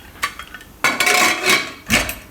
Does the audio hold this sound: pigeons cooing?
no